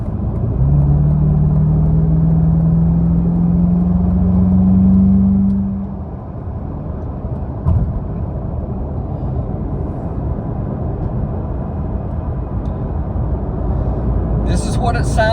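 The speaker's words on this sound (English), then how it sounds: "This is what it sounds like on the highway with these huge tires." Car on the highway at about 65 to 70 mph, fitted with huge tires and windows closed: a steady loud road rumble and tire roar with a rising engine drone early on, continuous throughout.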